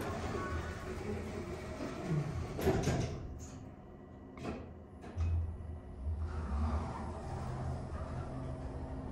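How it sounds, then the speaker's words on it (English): Lift doors of a 2007 Otis GeN2 elevator closing in a Tesco Extra store in Basildon, a sliding mechanical rumble with a couple of soft thuds as the panels meet, fairly close, with no talk. "Doors closing."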